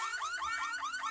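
A car alarm in the zombie survival video game Dawn of Zombies wails in rapid, repeating electronic sweeps, loud and continuous with no talk over it.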